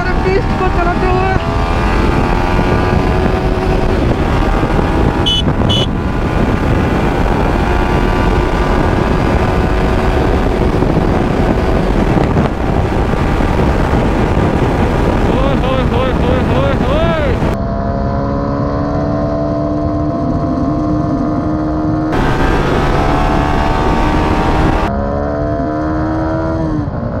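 Yamaha R15 V3 BS6 motorcycle with a quickshifter being ridden, its engine droning loud and steady throughout with rising and falling revs and sharp pitch drops at gear changes, the ride continuing with no talk.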